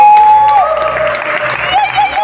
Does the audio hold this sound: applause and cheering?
yes